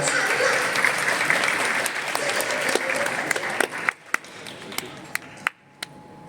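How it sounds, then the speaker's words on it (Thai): An audience at a film awards ceremony applauds steadily, then the clapping thins out to a few scattered, separate claps near the end. "ขอเสียงปรบมือให้ด้วยนะครับ"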